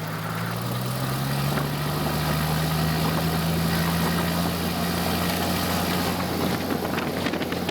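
Light aircraft piston engine running up before takeoff, a loud steady drone with a strong low hum and a slight rise in pitch early on, continuous throughout with no speech.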